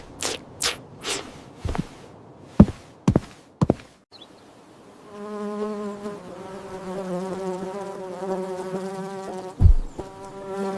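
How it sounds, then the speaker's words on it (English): Bees buzzing in a field, beginning with several sharp knocks and thuds, then a close, steady droning buzz with a wavering pitch that lasts several seconds, with no voices. "suddenly there were bees everywhere"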